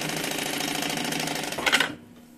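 A sewing machine stitches down a fabric tab on a small 2-in-1 mini backpack, giving a steady, close, rapid mechanical buzz that speeds up briefly before stopping abruptly near the end.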